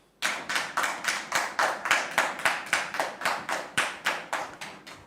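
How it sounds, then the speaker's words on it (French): Audience welcoming a speaker with rhythmic unison clapping, a loud, evenly spaced beat of roughly four claps per second, each crisp and close, starting abruptly and keeping a steady tempo throughout with no speech. "Merci de recevoir M. Lokoulé sous vos applaudissements"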